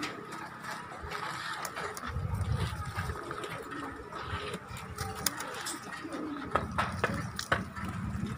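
Low, soft cooing of pigeons in a loft repeats in bursts among fluttering and scattered clicks, with a faint background hum.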